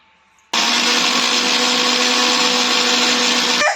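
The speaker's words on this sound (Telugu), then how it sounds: "ఇప్పుడు బాదం పప్పును మిక్సీ చేసుకోవాలి." A mixer grinder starts abruptly and runs at a loud, steady whine, blending almonds with milk for a few seconds before cutting off near the end. It is close and heard alone, with no voices.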